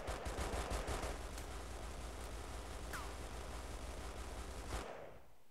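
Machine gun turrets in the strategy game iBomber Defense Pacific fire rapid bursts over a dense, loud rumble of battle noise, cutting off near the end.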